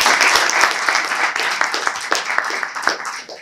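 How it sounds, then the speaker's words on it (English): An audience applauds the guest panelists at a live panel discussion on mental health in music and DJing, with steady, dense clapping that carries on throughout at a fairly close, full level. "give the lads a round of applause for turning up"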